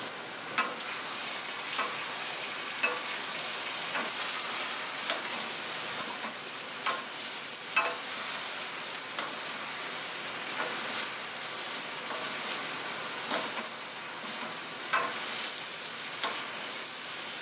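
Japanese-style fried noodles with sweet chili and sesame oil sizzle loudly in a wok while two wooden spoons stir and toss them, with a steady frying hiss broken by occasional clacks and scrapes.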